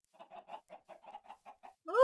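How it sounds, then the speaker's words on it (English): Chickens in the Minecraft video game give a quick series of about nine soft, evenly spaced clucks, then a louder, longer squawk at the end. "All these chickens. So many. Hey, chickens!"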